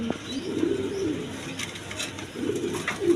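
Pigeons coo in a pigeon loft where birds are kept for sale, with soft, low, throaty cooing phrases repeating close by in two bursts over a faint background hiss.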